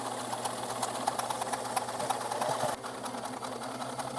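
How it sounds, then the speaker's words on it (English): A sewing machine runs steadily as it stitches along a fabric edge for blackout window covers, giving a close, continuous fast mechanical whir that drops slightly in level near the end. "We sew just right along the edge here."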